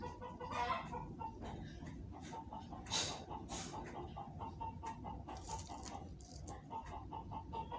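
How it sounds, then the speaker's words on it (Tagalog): A neighbor's chicken clucks in short bursts at a moderate distance, with faint background noise throughout and no one speaking. "narinig niyo yung manok sa kapitbahayan"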